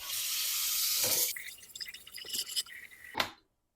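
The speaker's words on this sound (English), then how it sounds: "I'm going to run water in it because I do not want that to set up." Tap water rushes into a very hot pan in a kitchen while making a holiday toffee treat, starting as a loud steady hiss and splash, then breaking into irregular splutters and sputters before cutting off abruptly.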